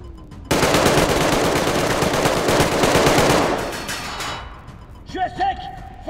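Rapid automatic gunfire from the video game ARKTIKA.1 rattles loud and continuous for about three seconds, then stops, followed by a few mechanical clicks and clanks.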